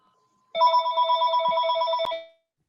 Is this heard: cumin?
no